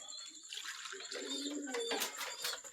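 Pigeons in a loft give soft, low cooing calls that rise midway, with faint water splashing in the background.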